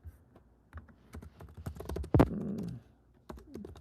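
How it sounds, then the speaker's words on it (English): Typing on a computer keyboard close to the microphone, with irregular clicking keystrokes that thicken into a burst of louder clacks midway, then ease into a few scattered taps. "I should have just looked on my phone for typing like this"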